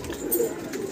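Red domestic pigeons cooing close by in Samaypur Badli, Delhi, a short soft burble with faint background noise.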